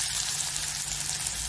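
Onion dropped into hot oil in a home kitchen pan, a dense, steady frying sizzle that continues loud and close throughout, with no talk.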